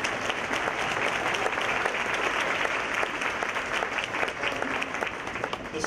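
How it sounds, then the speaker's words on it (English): A school auditorium audience applauds steadily at a seventh grade spring band concert, a dense, sustained wash of many hands clapping at even loudness throughout. "If we give him a round of applause"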